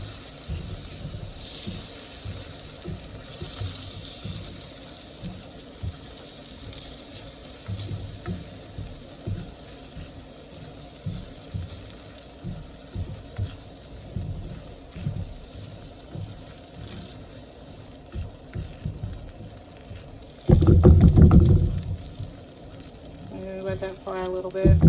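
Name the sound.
rice frying in a pan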